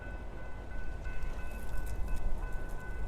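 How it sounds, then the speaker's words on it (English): Trains rolling past along a roadside route toward Arizona, a steady low rumble with faint high squeals and no voices. "Trains going by."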